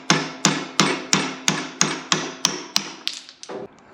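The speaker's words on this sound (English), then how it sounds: "Use a piece of aluminum as a drift." An aluminum drift is struck with a hammer to knock a piston out of a cylinder, in about a dozen sharp, evenly spaced metallic blows. The last few come faster and lighter, all close and loud with no talking.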